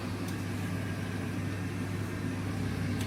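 An air fryer runs while cooking smashed potatoes, giving a steady, even fan hum with a low drone throughout. It is close and constant, with no talking.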